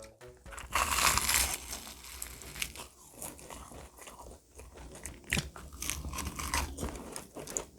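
Biting and chewing a single egg tart reheated in an air fryer, with close, loud crunches of flaky pastry followed by steady, softer chewing and crinkling, and no talk.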